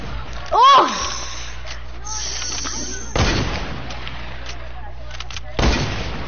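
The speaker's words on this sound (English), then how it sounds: "I sniped him." Sniper rifle fire in a video game, one sharp shot early on followed by two more bursts of gunfire later, with voices talking over the game sounds.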